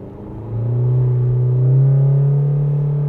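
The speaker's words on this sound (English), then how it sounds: "how fast does it go in reverse?" A 2024 Isuzu MU-X, fitted with its smaller engine, accelerates hard in reverse with a loud, close engine drone that rises steadily in pitch and holds strong to the end, with no talking over it.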